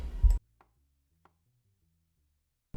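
A Blue Diamond knife cuts cucumber, with one firm thud at the start and another at the end, separated by near silence with only faint ticks.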